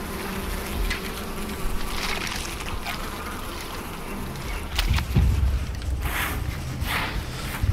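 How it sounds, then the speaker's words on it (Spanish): Bees buzzing in the video game Far Cry Primal, a steady insect drone running throughout beneath game ambience, with a few louder swells and thumps near the end. "Hay abejas."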